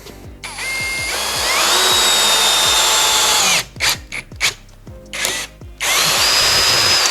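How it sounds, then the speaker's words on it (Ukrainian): A Worcraft CHD-S20LiBAB cordless brushless drill drives small screws into an oak board, its loud motor whine rising in long runs, then broken into short clicking bursts before spinning up again, close and alone. "маленькі гвинтики можна закрутити в дубову дошку"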